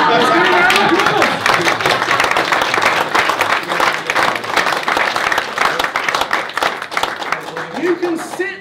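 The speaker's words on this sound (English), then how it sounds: "Let's give a round of applause!" A crowd applauds at a property investing seminar, dense continuous clapping filling the room for several seconds with some voices mixed in under it.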